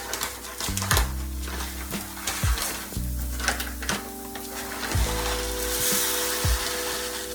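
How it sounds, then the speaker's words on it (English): Arborio rice and chopped shallots sizzle steadily in hot oil in a dish while being stirred, the frying hiss broken by repeated scraping strokes of a spoon, close and fairly loud, with a faint low hum underneath. "You're just gonna move the rice around for about 2 minutes so you can coat the grains of rice in the oil and mix them with the shallots"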